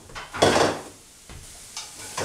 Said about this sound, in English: maybe you can actually hear them cooking still. I hear the sizzling.